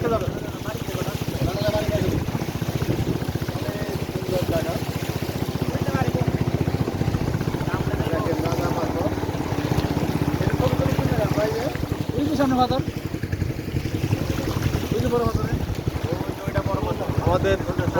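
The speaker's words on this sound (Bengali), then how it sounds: "আমাদের বোট চালক একটু স্লোলি চালাচ্ছে, কারণ সব জায়গায় পাথর" A motor boat moves slowly up the rocky Tindu river near Thanchi, Bandarban, its engine giving a loud, unbroken drone mixed with wind and water rush, with voices faintly underneath.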